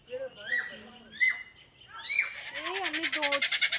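A hornbill calls repeatedly in a series of rising, honking notes that end in a rapid pulsing burst, fairly close and clear, with other birds faintly around it.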